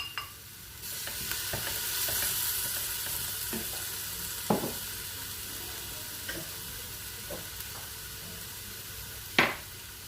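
Onions for Moroccan harira added to a pot, a faint low sizzle punctuated by occasional sharp clicks and scrapes of a utensil, with one louder clatter near the end.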